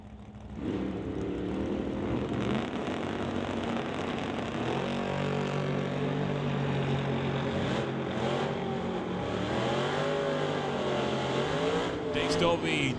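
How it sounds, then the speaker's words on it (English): Drag race start between a Ford Falcon and the Evans Holdings Corvette at an NHRA Summit ET event, engines roaring steadily and loud for the whole stretch while a track announcer talks over the noise. "Stobie taking off in the Corvette."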